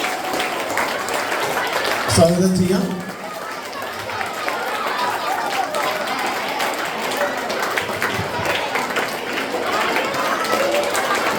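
Audience at an anniversary cultural day event claps to welcome actor Jagathy Sreekumar onto the stage, a steady wash of crowd applause and chatter running throughout under an announcer's voice, with a brief louder burst near the start.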